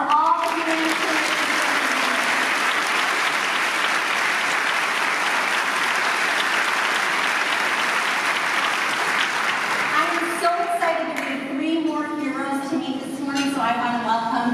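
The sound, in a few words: audience applause for the humanitarians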